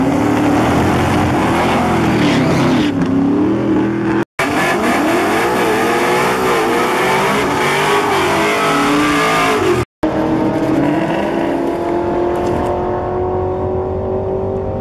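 Drag racing cars at Houston Raceway Park, including a Mustang, roar loudly with rising and falling revs, engines near and continuous across the clip.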